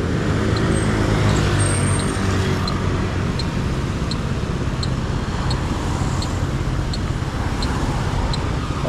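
Traffic rumbles steadily along a narrow road, with vehicles passing close by in a continuous loud wash of engine and tyre noise, a brief hiss like an air brake, and faint high ticking over the top.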